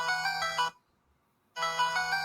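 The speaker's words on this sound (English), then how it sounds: "I'm gonna use these as my ringtones." A retro Nintendo-style phone ringtone plays two short bright electronic bursts separated by a brief silence, clear and alone.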